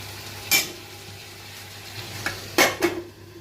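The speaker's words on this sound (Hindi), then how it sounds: "सब्जी बन रहा है, इसमें थोड़ा सा लहसुन मिर्च और अदरक डाल दी" Vegetables with garlic, chili and ginger sizzle quietly in a pan while a spoon scrapes and clinks against the metal a few times, sharp stirring strokes over a low, steady frying hiss.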